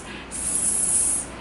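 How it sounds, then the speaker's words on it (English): A continuous spray bottle mists houseplants in one smooth, close hiss lasting just over a second, with no talking. "It's really good if you want to mist your plants"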